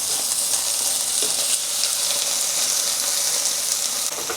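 Chicken pieces fry in hot oil in a pan, a steady close bright sizzle with faint crackles and spits running continuously without talk.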